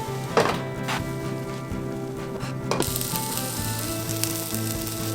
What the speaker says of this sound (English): Right, so we've got our sausages and our onions on our grill.